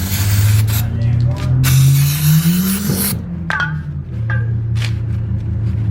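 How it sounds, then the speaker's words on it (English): Mass airflow sensor cleaner is sprayed in hissy bursts during ignition coil work on a Chrysler 300, the loud spritzes close by over a running engine's hum and some mechanical clicks. "we have some mass airflow cleaner here, man"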